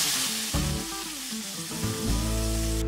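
Ground mango pulp hits hot ghee in a pan with a steady, close sizzle that swells slightly as it settles, with faint stirring underneath.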